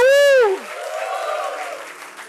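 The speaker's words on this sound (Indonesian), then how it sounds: "Gading Serpong tepuk tangannya lebih dahsyat." A church congregation claps hands after a loud voiced shout at the start; the clapping continues as a steady, moderately loud wash before easing off slightly toward the end.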